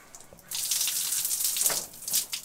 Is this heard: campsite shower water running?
yes